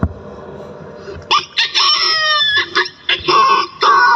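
A voice imitating a medium-sized rooster crowing, a close, loud strained crow in several rising and falling bursts separated by short breaks, following a brief breath at the start.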